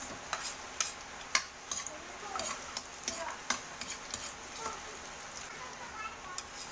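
Garlic and onion sautéing in a pan for stir-fried bean sprouts with kikiam, with a soft sizzle under repeated sharp scraping and clicking strokes of a spatula stirring at an uneven rhythm.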